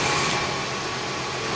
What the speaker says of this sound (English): car sounds and runs just like you'd assume a 1985 Oldsmobile to do